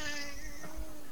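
A young child imitates a cat, giving one drawn-out, wavering meow-like cry that sounds near and fairly loud.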